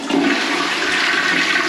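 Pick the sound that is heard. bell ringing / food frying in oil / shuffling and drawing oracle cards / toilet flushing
toilet flushing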